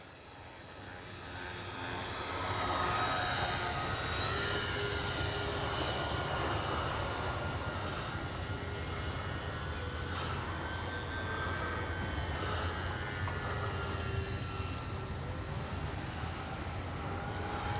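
A Dynam P-61 Black Widow twin-engine RC warbird flying overhead, its electric motors giving a steady buzzing whine that swells after a couple of seconds and holds at a fairly even level with shifting pitch.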